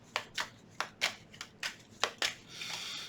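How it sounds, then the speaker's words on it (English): Tarot cards riffle in a quick series of about seven sharp, crisp bursts, close up, ending in a softer sustained shuffle. "One more shuffle."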